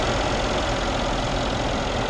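A Mercedes-AMG S63 4Matic with a 5.5-liter twin-turbo V8 runs close by, a loud, dense, steady engine rumble that holds unbroken for the whole stretch with no voices over it.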